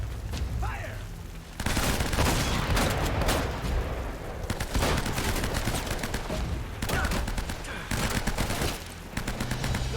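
Video game gunfire from Uncharted: Drake's Fortune: dense bursts of shots and booming impacts come in two long stretches with a brief lull between them, loud and busy.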